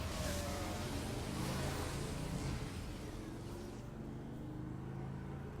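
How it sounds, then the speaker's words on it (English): A motorcycle engine revs somewhere outdoors, a steady, fairly loud low drone that runs through the whole stretch and fades a little toward the end. "I hope you couldn't hear that motorcycle outside"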